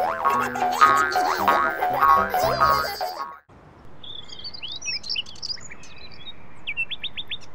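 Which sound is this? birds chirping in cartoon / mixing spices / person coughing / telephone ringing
birds chirping in cartoon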